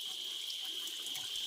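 Cold water flowing steadily from a crevice in the rock at a tribal village in the hills, a continuous hiss-like splash that stays at an even level from start to finish with no voices.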